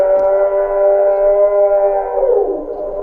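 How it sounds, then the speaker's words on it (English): Creature howling in the video game Voices of the Void, one loud sustained tonal howl held steady for a couple of seconds before it bends downward and fades, heard alone. "I just heard something howl."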